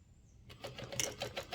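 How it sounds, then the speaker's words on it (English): A sewing machine stitches around the edge of a quilt made on vinyl, starting after a brief quiet moment and running in a quick, close, rhythmic clatter. "the last thing I'm going to do is sew all the way around to catch all of those, all of the ends"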